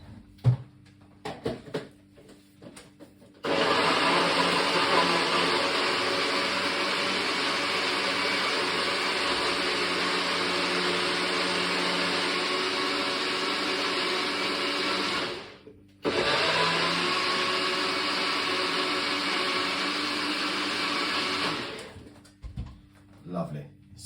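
A kitchen blender whirs loudly as it purees pineapple for a smoothie, running steadily for about twelve seconds, cutting out briefly, then roaring again before stopping.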